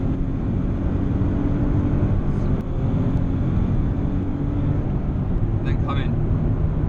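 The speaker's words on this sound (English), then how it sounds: "Still in third, and accelerate. And up into fourth gear." A Nissan 370Z accelerates hard on the Rockingham race track in third gear before shifting up into fourth, a loud, steady engine drone heard from inside the car, with a brief dip at the gear change.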